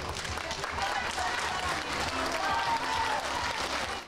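An audience at a circus performance applauds steadily, a dense wash of clapping that holds loud and close for several seconds, with a voice talking over it, before it cuts off.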